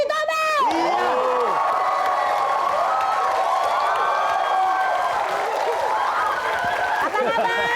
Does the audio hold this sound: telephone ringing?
no